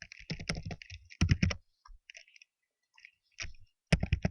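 Computer keyboard keys clacking in quick irregular bursts separated by short pauses, close and clear with no voices.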